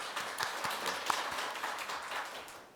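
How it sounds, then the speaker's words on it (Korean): An audience at a policy seminar on financial and telecom fraud applauds. The clapping is dense and sustained, with individual claps standing out, and it tapers slightly toward the end. "큰 박수를 부탁드리겠습니다"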